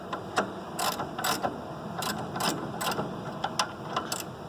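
A ratchet clicks in short, repeated bursts as it backs a bolt out of the engine of a 1992 Honda Civic during engine removal, each spurt of sharp metallic ticks close and fairly loud, with no talking.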